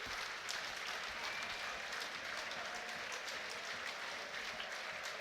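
Football fans at a Wrexham v Charlton Athletic match applaud the players. Steady, dense clapping from a distant crowd runs throughout, with no talk over it.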